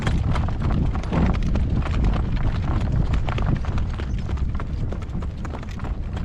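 A hitched horse clip-clops steadily along a road on a gale-force windy day, the hoofbeats close and continuous under heavy gusting wind noise across the microphone.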